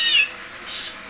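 A bird imitates a cat's meow, giving two high, nasal meow-like calls, the first louder and sharper, the second softer and drawn out, close by with no talking.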